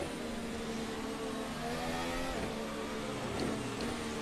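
In the Assetto Corsa racing game, a Formula Alpha Pro 2025 open-wheel race car from Virtual Racing Cars drones along at steady revs with a slight rise in pitch, continuous and alone.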